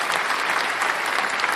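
Loud, steady applause from a crowd runs through a brief podcast intro, an even wash of clapping with no breaks.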